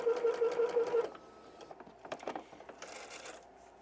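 A sewing machine back stitches a small keychain tissue holder, a loud rapid whirring run of stitching for about a second, followed by quieter handling clicks and rustles with a brief second burst.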